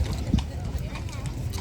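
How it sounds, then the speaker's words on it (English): A horse's hooves clip-clop at an easy walking pace during a cattle drive, steady and fairly close, while people talk over the hoofbeats. "Pretty horse."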